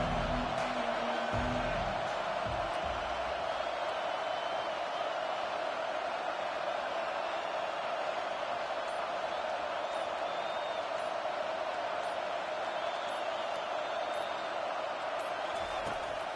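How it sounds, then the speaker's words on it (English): A stadium crowd at a football game, heard as a sustained, loud wash of many voices that keeps a constant roar throughout, with a few faint thumps early on. "This crowd bringing an ear-splitting welcome to their visitors"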